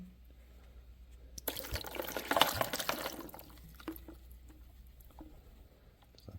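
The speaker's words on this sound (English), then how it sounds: "just rinse those bottle caps off" Water runs over beer bottle caps from a home craft-beer kit, a splashing rush of about a second and a half under a quiet room, then dripping and small trickles as it tapers off.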